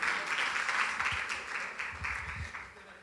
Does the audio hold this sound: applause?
yes